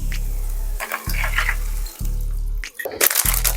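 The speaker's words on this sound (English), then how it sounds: "then we add 2 cups of water" Two cups of water are poured into a hot skillet of drained cooked beef for a Velveeta Philly cheesesteak one-pan dinner kit. Loud splashing and sizzling run over a low rhythmic hum that cuts out briefly at intervals.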